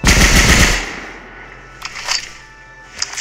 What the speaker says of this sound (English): here's the golden MP40